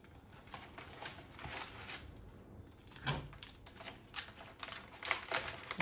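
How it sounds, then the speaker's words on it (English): Adhesive tape pulled and wrapped around a cardboard pizza box, a run of quiet crackling, ripping strips and taps with a few louder pulls partway through. "So I'm going to just put the tape around the outside of my box."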